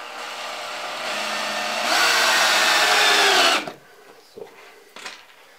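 A power drill drives screws into wood while a DIY armchair for hand puppets is built: a loud, steady whirring rises in pitch and stops abruptly, followed by a few faint knocks.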